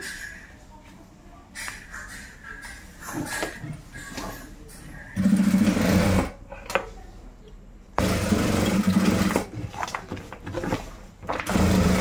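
A sewing machine stitches a pocket onto a bag made from a rice sack, running in short bursts of motor whir, with a person talking in the quieter stretches between runs.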